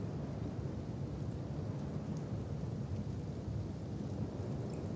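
Rain and thunder in the video game Kenshi make a dense, continuous wash of rainfall with a low rumbling undertone, steady and moderately loud throughout, with no talk.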